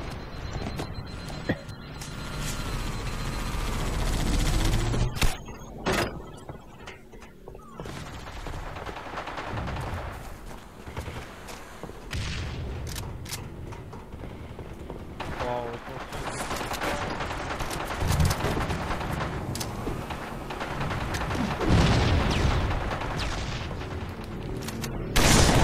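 Rapid turret fire in Halo 3 hammers in dense repeated bursts amid booms and chaotic battle noise, loud and close, with occasional speech over it.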